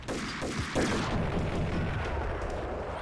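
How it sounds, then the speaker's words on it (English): Gunfire in the video game Max Payne, a dense barrage of booming shots that runs on continuously and loudly with no pause. "Got off a few rounds on me then."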